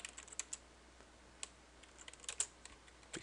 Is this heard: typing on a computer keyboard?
yes